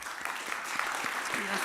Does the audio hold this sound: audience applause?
yes